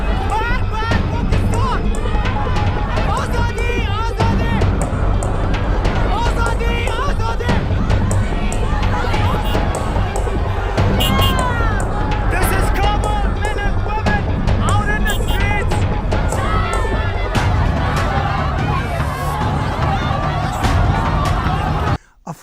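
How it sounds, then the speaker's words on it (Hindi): A large crowd outside the Pakistani embassy, a loud, constant roar of many voices and babble that holds steady throughout, the chanting blurred into the mass of sound. "पाकिस्तान के एम्बेसी के बाहर नारे लग रहे हैं, मर्ग बर पाकिस्तान"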